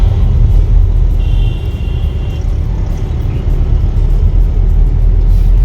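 Buses grind slowly up a steep, dangerous hill road, a loud, close, steady engine rumble with low drone and a brief higher whine, continuous throughout without talk.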